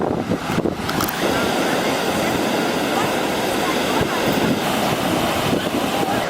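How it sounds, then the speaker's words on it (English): Big ocean surf breaking at Kings Beach on Australia's Sunshine Coast, a steady loud roar of crashing waves with constant wash and wind buffeting across the whole stretch, no voices. "these right here are the biggest waves that I've ever experienced"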